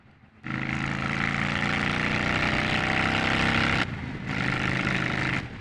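A 2002 Honda VT750 Ace motorcycle engine drones steadily while riding into town, starting suddenly, holding a loud even rumble, then briefly dropping before resuming.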